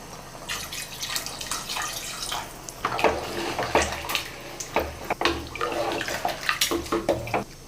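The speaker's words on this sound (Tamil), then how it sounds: "இப்போ தண்ணி சேர்த்துக்கலாம்" Water pours in a steady splashing stream into a cooker of soaked basmati rice and chicken masala for biryani, close up and continuous, with a few irregular spurts and drips.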